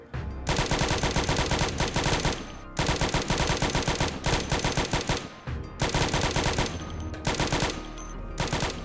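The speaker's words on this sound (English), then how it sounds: "It's a machine gun!" Machine gun fire in the zombie survival game Project Zomboid comes as loud, close, sustained bursts of rapid shots, about five long strings separated by brief pauses, with no talking over them.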